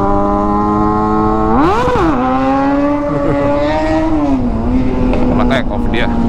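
Yamaha Aerox Alpha Turbo scooter-style motorcycle engine revving and pulling hard on a city street, pitch rising sharply then settling into a steady drone, loud and close, with wind noise and a voice talking over it.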